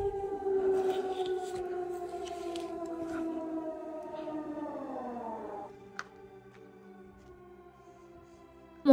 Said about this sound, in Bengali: বাইরে এতটা জোরে সাইরেন বাজছিল, ইমার্জেন্সি সাইরেন